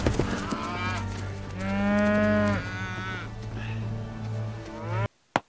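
A cow moos in one long, drawn-out low call that rises and falls, loud and close, followed by a brief pause and a short thump.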